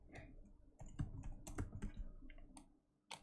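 Fingers tap and click on a computer keyboard nearby, a quiet, irregular run of keystrokes with short pauses, heard alone without talk.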